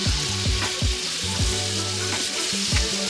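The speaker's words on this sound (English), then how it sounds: "so it starts searing." Cod fillet searing in melted butter with garlic and rosemary, a steady close sizzle and crackle with soft clinks and stirring scrapes, no talking.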